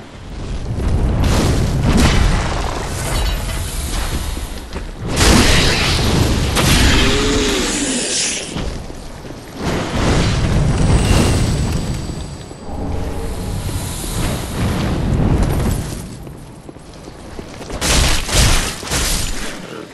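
A large dragon breathes fire in Dark Souls 3, producing loud roaring blasts that surge and fade in several long waves over booming game music and effects.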